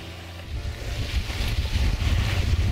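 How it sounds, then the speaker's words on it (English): Strong wind of about 30 knots roars over a sailboat crossing Desolation Sound in falling snow, a loud, continuous rush with low buffeting and the wash of water. "Here we are in 30 knots of wind."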